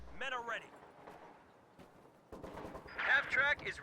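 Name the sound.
rifle gunfire in a WWII strategy video game battle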